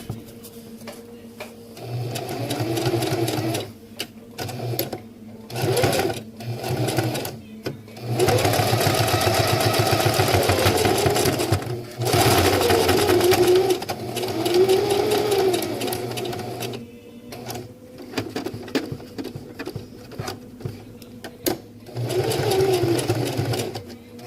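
A sewing machine stitches PALS/MOLLE webbing onto an accessory pouch, running in bursts of rapid mechanical chatter separated by short pauses, loud and close, with a longer steady run in the middle.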